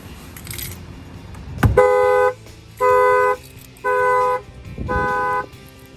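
A Dodge Challenger Hellcat Redeye factory car alarm sounds in repeated electronic tone bursts, four loud pulses with short gaps, preceded by a sharp knock on the window.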